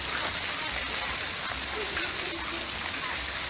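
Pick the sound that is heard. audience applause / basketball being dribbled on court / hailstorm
hailstorm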